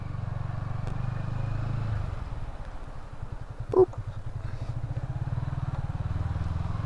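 A motorcycle with a stock exhaust rides through a residential housing complex at night on New Year's Eve, its engine a steady, moderate low thrum with a brief clatter partway through.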